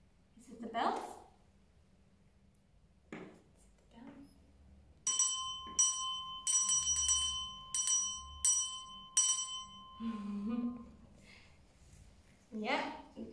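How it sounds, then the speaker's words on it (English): Repeated bright metallic bell strikes ring out in quick clusters, with a sustained tone between hits, preceded and followed by brief talking. "Yeah, it's the bells."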